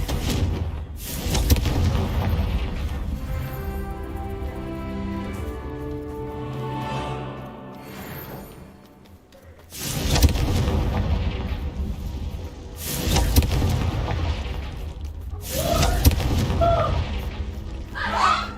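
Spell explosions from Bombarda and Confringo in the video game Hogwarts Legacy, heard as several loud booming blasts and thuds over a busy background of game music and effects.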